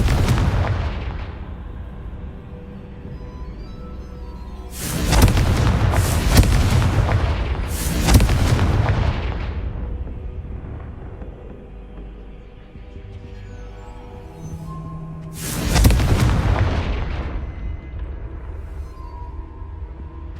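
Confringo fire spells explode in the video game Hogwarts Legacy: a close cluster of three loud, booming blasts, then after a quieter stretch with a soft tone another single heavy blast, each rumbling briefly before fading.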